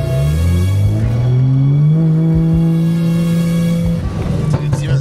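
A tuned BMW 335i F30 with an N55 engine reverses quickly, its engine and drivetrain whine climbing steadily in pitch, loud and close from inside the cabin, with a voice briefly audible.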